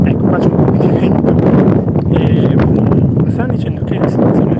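Strong wind buffets the microphone on La Cinta beach in San Teodoro, Sardinia, a loud continuous roaring rumble that fills the whole stretch without letup.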